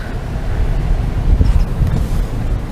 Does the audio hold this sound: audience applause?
no